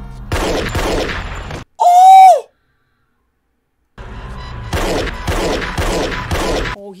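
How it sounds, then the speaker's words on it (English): Gunfire in a Breaking Bad TV episode, heard as two dense clusters of sharp, loud shots separated by a brief high-pitched tone and a stretch of silence. "they're shooting Hank, bro."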